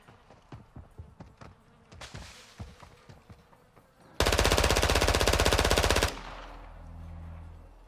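Video game gunfire with incendiary rounds: a long, loud, rapid automatic burst after scattered footsteps and buzzing, then a low hum as it stops.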